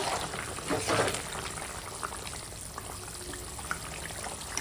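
A thin rohu fish curry broth with ridge gourd and papaya bubbles steadily at a rolling boil in a pot, a soft continuous hiss with a brief louder gurgle near the start.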